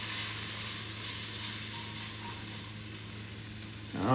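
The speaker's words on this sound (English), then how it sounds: "I'm going to put a splash, just a splash, of hot water to get the. And you hear that sizzle?" Steady, loud sizzling of chana masala spices in a hot pan after a splash of hot water, a continuous crackling hiss that swells briefly near the end.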